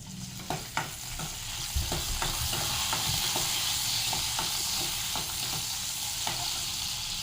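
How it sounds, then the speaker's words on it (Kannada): Garlic, ginger and green chillies fry in hot oil for masala puri, giving a loud, continuous sizzle with intermittent clicks and scrapes of stirring throughout. "ಬೆಳ್ಳುಳ್ಳಿ, ಶುಂಠಿ, ಹಸಿ ಮೆಣಸಿನ್ಕಾಯಿ ಇವಿಷ್ಟನ್ನ ಫಸ್ಟ್ ಫ್ರೈ ಮಾಡ್ಕೊಂಡಿವನ್ನ."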